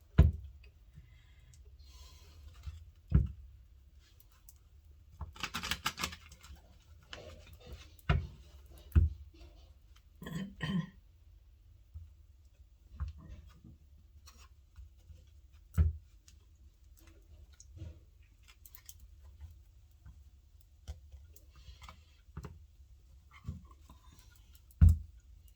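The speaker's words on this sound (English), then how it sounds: "Please, Spirit, give me one shuffle." Tarot cards are shuffled in a quiet room, with soft scattered clicks and brief riffling flutters spread across the stretch, faint and intermittent against near silence.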